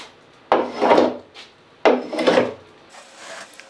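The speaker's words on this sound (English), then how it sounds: "take the axe and just scrape it along those strokes that you just dug into the wood with" An axe blade scraped along a hand-hewn wooden beam to clear chips: two long, close, rasping strokes of metal on wood, each starting with a sharp bite, plus a fainter third scrape, with no talking.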